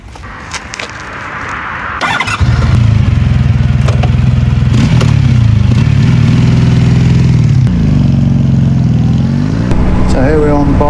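A Honda VF1000R motorcycle engine on a test ride, rising from a quieter start into a loud, steady, close engine drone with wind noise that shifts in pitch near the end.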